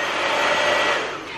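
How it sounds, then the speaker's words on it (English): An Irresistible Me Onyx hair dryer with dual heating and infrared runs in a steady, loud, broadband whoosh, close by and alone. "I'm using my Irresistible Me Onyx hair dryer."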